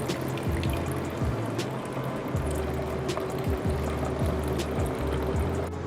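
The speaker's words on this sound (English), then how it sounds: "pour my cold filtered water until I'm at that 800 mark" Cold filtered water pours steadily into a container sitting on a kitchen scale to make cold brew coffee. The close, continuous stream gurgles softly, with small splashes and bubbling throughout.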